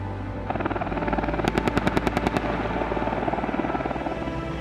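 An AH-64 Apache attack helicopter gives off a steady, heavy rotor drone, cut midway by a quick burst of about ten sharp, evenly spaced cracks like rapid cannon fire.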